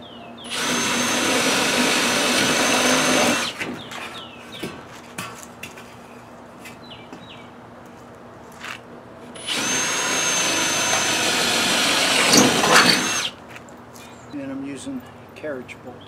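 A power drill bores through metal on a DIY barn door track, two loud sustained whirring bursts of about three seconds each, separated by quieter clinking, handling noises and talk.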